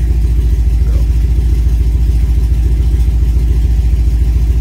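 A car engine fitted with a Holley Sniper EFI throttle body idles steadily and loudly up close, a low, even, pulsing rumble with no voices over it.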